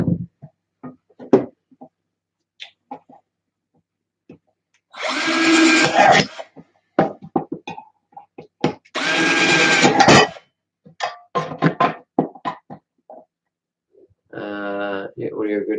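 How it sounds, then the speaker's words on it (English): A power drill bores through aluminium in two loud, sustained bursts, with a shorter, whining burst near the end, separated by quiet gaps with scattered clicks and handling noises. "I'll drill some stuff. Yeah, so this is aluminium."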